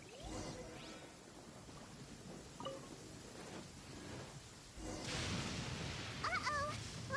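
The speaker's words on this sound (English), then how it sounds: "Uh-oh! Lightning storm!" Rain and rolling thunder from a lightning storm in Genshin Impact, a steady wash of rainfall that swells louder in the last couple of seconds, with faint game sound effects over it.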